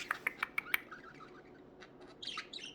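Pet budgies chirp in a quick series of bright, sharp calls at the start, then go quiet, and a softer warbling twitter follows near the end, close and fairly faint.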